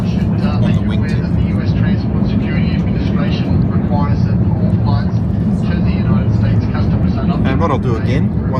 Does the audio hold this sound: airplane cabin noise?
yes